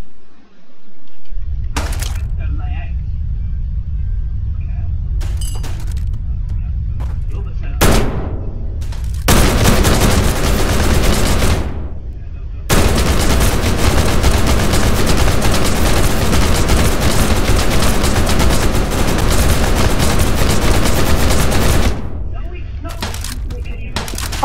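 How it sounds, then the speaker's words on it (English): Sustained bursts of AK-47 automatic fire in a gory video game, loud and dense, with long continuous volleys broken by short pauses and a few isolated shots. "now let's riddle his body with AK-47 bullets"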